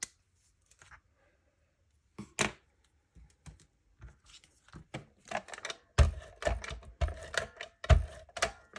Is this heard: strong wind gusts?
no